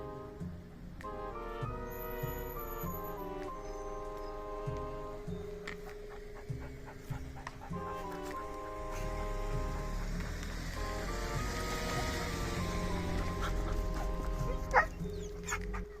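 A dog at a rescue site pants and gives a few whimpers and yips beneath steady music, with people talking faintly in the background.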